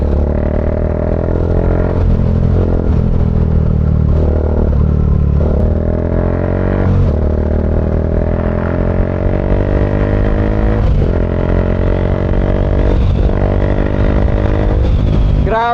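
A Bajaj Dominar 400 UG2 motorcycle with an aftermarket Palit Zeus muffler rumbles with a deep, bassy exhaust note, repeatedly revved in short rises and falls over a steady loud idle.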